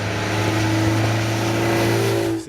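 A 1964 classic car, the model from The Saint TV series, revs its big cast-iron engine at a rally, a loud, steady, close mid-pitched roar that holds for a couple of seconds before dropping off.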